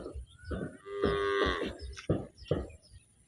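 A red cow moos in several loud, close calls, one drawn-out low bellow followed by shorter grunting moos, with no talk over them.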